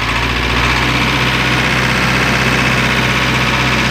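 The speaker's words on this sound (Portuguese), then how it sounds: "Olha o barulho do motor do bicho." A Marcopolo Sênior minibus diesel engine idles loudly and steadily, a constant low rumble with a broad mechanical hum and no voices.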